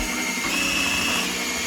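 A mixer running at low speed churns floor coating material, giving a steady, continuous motor whir throughout, close and fairly loud.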